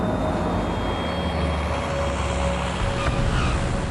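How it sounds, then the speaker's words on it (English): Cargo planes fly low at the Farnborough air show, a loud continuous engine roar with a steady whine, close and unbroken for the whole stretch. "These cargo planes are demonstrating their specialty,"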